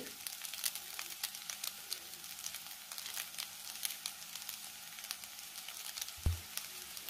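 Cooked rice frying with Schezwan chutney in a home kitchen pan, giving a steady soft sizzle at moderate distance and a brief low knock near the end, with no talking.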